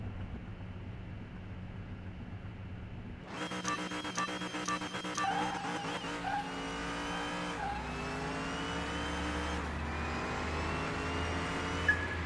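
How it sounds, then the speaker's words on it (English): A racing car engine revs hard in a video game race against a Pagani Tempesta. After a quiet idle, it leaps to a loud, close roar, climbing through several gear shifts with rising pitch and a brief tire squeal. "Right now we're racing the Pagani Tempesta."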